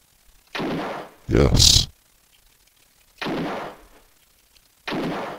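Gunshots in the PC game Alone in the Dark, a few separate loud blasts with gaps between them and a brief spoken word among them.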